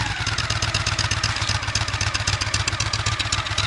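A Honda Shadow VT 750 V-twin motorcycle, about 20 years old, idles close by with a steady, loud, lumpy pulsing beat and a mechanical clatter over the low thump.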